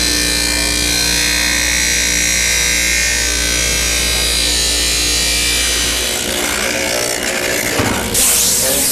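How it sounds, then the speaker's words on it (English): A power tool grinds steadily to trim the inner wall of a first-fit prosthetic leg socket, loud and close, its pitch shifting and roughening toward the end as it bites into the material. "What we're going to do is just trim the inside, the medial wall down for his groin area"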